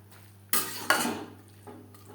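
Cabbage with tomato and peas stirred in a pan over medium flame, two close scraping stirs of a utensil against the pan followed by a fainter third, over a quiet background hum.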